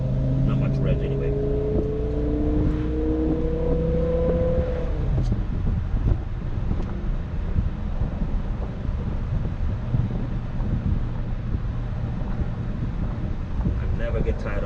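A BMW E60 M5 engine idles on a cold start while still warming up, a steady low rumble with slight tonal whine early on, heard under wind noise with someone talking.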